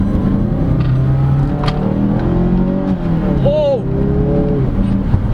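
A 2018 Mazda CX-9 2.5 Grand Touring AWD SUV with a six-speed automatic accelerates in sport mode, its engine a steady, loud cabin drone rising in pitch under a brief spoken exclamation.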